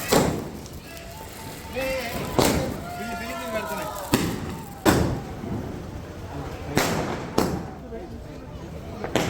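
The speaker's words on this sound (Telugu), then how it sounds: "కాల్చేసి మా బావగారు వాళ్ళ ఇంటి దగ్గరికి వెళ్ళామన్నమాట" Diwali firecrackers set off outside a home burst as a series of sharp, loud bangs at irregular intervals, around seven reports in all, with faint voices in the background between blasts.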